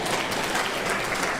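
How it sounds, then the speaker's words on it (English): Audience applause at a political campaign speech, steady clapping from a crowd filling the space, continuous and fairly loud without a break. "You clap for everybody."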